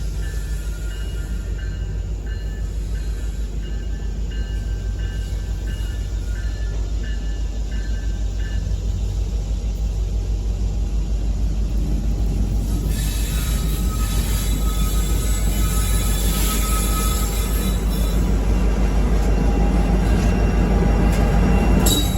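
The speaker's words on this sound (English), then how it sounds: "we find train 266 entering Artesia" CPKC freight train 266 rolling into Artesia on the Artesia subdivision: a loud, steady rail rumble that builds gradually, with wheel squeal and metallic screeching joining in the latter half.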